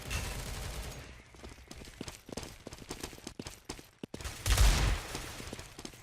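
Rapid rifle gunfire from a Counter-Strike esports match crackles in dense, uneven bursts, with a louder cluster of shots near the end.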